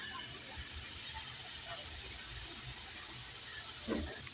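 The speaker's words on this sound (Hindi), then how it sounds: "गरम पैन में डाल लेंगे हम 2 से 3 घूंट पानी।" Two or three sips of water go into a hot pan holding an aloo kulcha over a medium-to-low flame, giving a steady hissing sizzle that holds level throughout.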